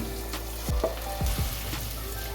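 Fried okra being stirred into a masala in a clay pot for bhindi gosht, with a steady low sizzle and a few soft scraping stirs near the start and middle.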